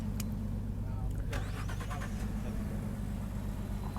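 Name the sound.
Ford car engine starting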